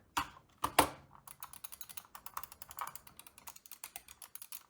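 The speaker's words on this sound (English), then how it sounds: "It uses a optical clicker. However, it still gives you that extremely comfortable, satisfying" Rapid series of sharp, crisp optical mouse button clicks, a few louder ones first, then a fast, even run of lighter clicks close up.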